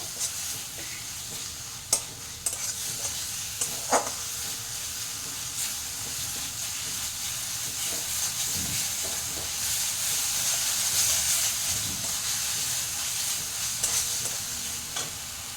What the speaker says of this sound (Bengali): এইভাবে মশলাটাও একটু ভেজে নেব।